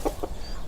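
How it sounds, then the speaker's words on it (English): Two quick, soft hen clucks sound close by in a Peppa Pig cartoon, followed by faint background noise. "3 hens come to peck at the bare earth"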